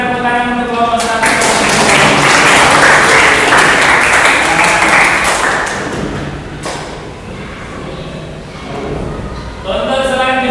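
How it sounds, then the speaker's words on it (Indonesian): Students in a school classroom applaud group 1, with loud clapping and thumps that swell over several seconds, then ease off. Voices chatter around the clapping. "berikan tepuk tangan untuk kelompok 1"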